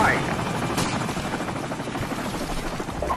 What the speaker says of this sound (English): Helicopter support standing by.